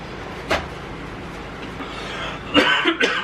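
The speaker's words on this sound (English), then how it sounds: "That chile making me cough, y'all." A single cough, then a couple of quick coughs close together a moment later, against quiet background noise.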